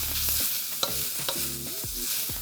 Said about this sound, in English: Just keep stir frying a few minutes until you get that cabbage and the carrot wilting a little